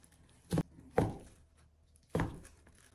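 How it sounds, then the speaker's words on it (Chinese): A knife cuts Shangqiu rolls (juanjian) into slices on a board, giving three separate dull chopping thuds, close and clear, with quiet pauses between them. "接下来我们把这给它切成片"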